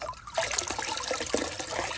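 Water spills out of a TGM 1 gallon Bambi bucket as it releases its load, a steady close trickling and splashing flow that continues throughout.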